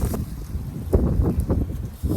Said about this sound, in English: Sorry about the wind, y'all. It's the worst.